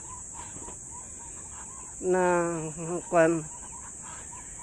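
A hen and a rooster are let out and cluck in a few close, loud calls, with a brief word spoken and a steady high insect-like hiss in the background.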